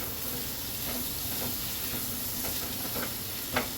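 Tomatoes sautéing with salt in a masala for roasted baigan, a steady close sizzle and hiss with occasional soft stirring scrapes, one sharper scrape near the end, no talking.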